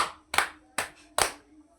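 Three crisp hand claps from a classroom clapping game ring out at a steady pace, close and moderately loud, each a short bright burst, with no talking over them.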